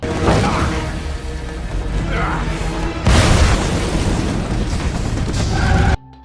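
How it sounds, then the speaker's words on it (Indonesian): A car blows up from a grenade in an action film scene, with loud rumbling booms, a fresh blast midway followed by crackling debris, ending abruptly; a voice may sound faintly underneath. "Mayat itu membawa granat. Mobil Igor pun meledak."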